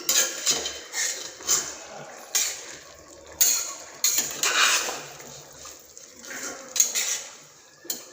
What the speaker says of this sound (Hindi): मिलाने के बाद 5 मिनट तक इसे भूनेंगे।